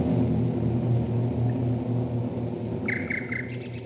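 A nightingale singing from bushes at Northwood Hills Bird Sanctuary in Kent, a short repeated phrase of clear notes over a steady low drone.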